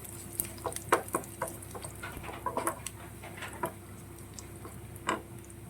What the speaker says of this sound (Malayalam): നമ്മൾ കടുകും കൂടെ വറുത്ത് ചേർക്കുകയാണേ